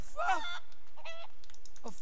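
A few short clucks and squawks from a chicken in the video game GTA V, synthetic-sounding, with brief pauses between them and faint noise in between.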